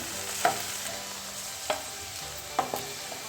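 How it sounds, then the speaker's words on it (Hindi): Okra fries in hot cooking oil with a soft, continuous sizzle, broken by a few sharper clicks of a utensil in the pan. "ये भिंडी मैंने जो है वो इस तरीके से फ्राई कर ली ऑयल में"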